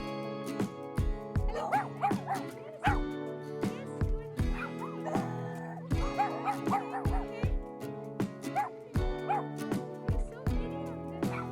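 A group of dogs across a street in Panama City barks and yips repeatedly in an irregular, overlapping chorus at moderate distance, with some whimpering mixed in and no talk over it.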